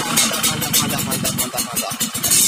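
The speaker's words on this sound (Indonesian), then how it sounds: "Oke, kita coba lagi starternya." A Yamaha RX King motorcycle, fitted with a modified electric starter, cranks and turns over loudly and close by, with a rapid pulsing engine churn that carries on without a break.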